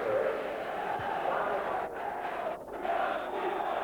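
Capacity football crowd of around 24,600 inside Love Street stadium for St Mirren against Rangers in 1989, a steady, dense roar of many voices filling the whole stretch with slight swells and dips.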